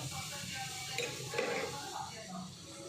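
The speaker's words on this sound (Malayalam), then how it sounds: "വലിയൊരു സ്പൂൺ നല്ല മുളക് പൊടി ഇട്ട് കൊടുക്കണം കേട്ടോ" Chili powder sizzles in hot oil in a pan for homemade mango pickle. A steady, close frying hiss runs throughout, with soft scraping as it is stirred.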